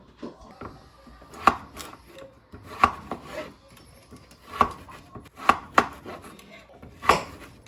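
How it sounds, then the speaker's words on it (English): Knife chopping ingredients for honey garlic chicken on a board, heard as irregular, crisp thuds spaced about a second apart, close and clear with faint kitchen rustling between strikes and no talking. "it looks like we've got some very nice chopping action going on there"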